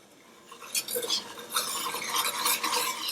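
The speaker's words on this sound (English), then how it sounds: "Give that a little stir." A spoon scrapes and clinks around a saucepan as heavy cream and white granulated sugar are stirred together, a close, busy rhythm of light metallic scraping sounds.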